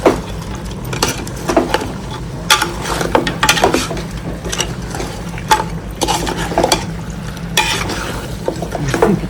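A ladle stirs mutton head curry in a pot, giving loud, close, repeated metallic scrapes and clanks in an uneven rhythm over a low bubbling simmer, with no one talking.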